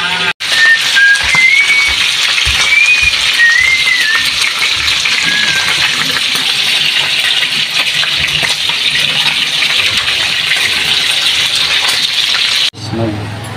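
Water gushing steadily from a tap or being poured in a home kitchen while cooking ginataang tulingan, a broad continuous rush lasting most of the clip before stopping abruptly near the end, with occasional faint voices and kitchen clatter.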